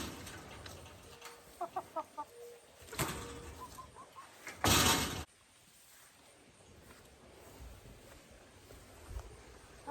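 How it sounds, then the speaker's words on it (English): Backyard chickens clucking close by in short rhythmic bursts, with a louder rustling burst midway and quieter coop noise after it. "So I pulled up some of the greens that was in the patch where the carrots are and feeding that to the chickens."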